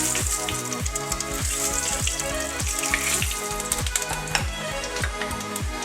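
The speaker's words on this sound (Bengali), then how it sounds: "এবার আমি তেলের উপরে একটু শুকনো লঙ্কা দিয়ে দিলাম, অল্প একটু" Dried red chillies crackle and sizzle in hot mustard oil as a tempering for a Bengali rohu fish sour curry, a steady close frying hiss with faint popping that runs evenly throughout.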